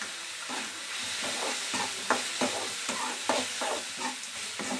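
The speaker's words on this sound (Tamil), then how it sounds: "நல்லா வணக்கிக்கலாம் ஃப்ரெண்ட்ஸ்" Amaranth stem greens and fresh green sundakkai (turkey berry) being stirred and sautéed in a pan for chutney, with a steady sizzle of frying broken by repeated scraping stir strokes.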